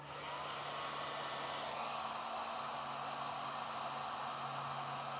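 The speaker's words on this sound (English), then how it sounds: "with these heat shrinks, you can come back with a heat source and seal them up" A heat gun blows steadily while sealing heat-shrink butt connectors on wiring for a Redarc Tow-Pro Elite trailer brake controller install, a continuous close airy hiss with a low hum that holds for the whole stretch, with no talking.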